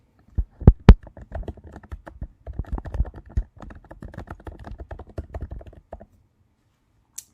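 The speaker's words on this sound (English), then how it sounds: "I type in these words" Fingers type on a computer keyboard, a few sharp louder taps first and then a quick steady run of clicking keystrokes for several seconds, close and clear in a quiet room before stopping.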